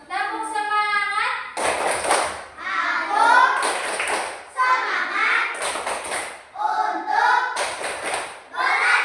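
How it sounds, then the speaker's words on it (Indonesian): Children chant and clap the 'tepuk semangat' routine together, loud group voices broken by bursts of rhythmic hand claps in a steady pattern, close and lively throughout. "Tepuk semangat."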